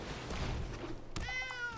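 A cartoonish cat meow sound effect in the MTG Arena card game rises clearly after a soft thunk, over low background game noise.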